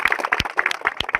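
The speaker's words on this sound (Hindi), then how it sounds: "तो जोरदार ताली हो" Scattered, fairly close hand claps from an audience at a Pioneer company seminar in Gariyaband, a short burst of distinct, uneven claps with no talking.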